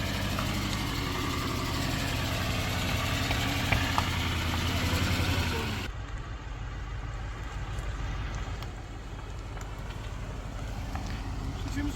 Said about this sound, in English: Listen to that old North Star miss back there.